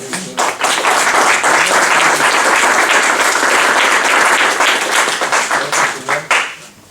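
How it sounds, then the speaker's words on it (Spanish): Audience applause after a scientific talk on molecular biology and advanced materials, loud and full with many hands clapping steadily, swelling quickly and then trailing off into scattered final claps. "Damos un aplauso."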